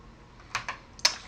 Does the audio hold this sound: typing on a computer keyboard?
yes